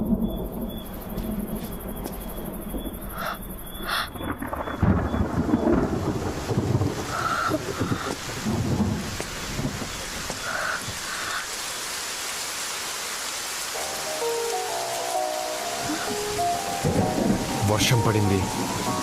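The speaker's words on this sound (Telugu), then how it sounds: "వర్షం పడింది," Heavy rain hisses continuously in a film scene while thunder rumbles and cracks loudly, and crickets chirp faintly underneath.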